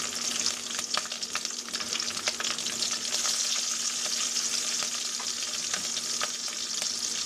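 Cumin seeds and green chilies fry steadily in hot oil in a pan, giving a close, loud, continuous sizzle with scattered crackles and pops throughout, no voices.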